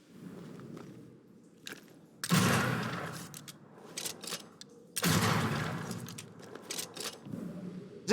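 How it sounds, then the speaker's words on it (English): Two loud, booming gunshot bursts with rumbling tails, separated by a few seconds, over quieter game background noise. "Those gunshots."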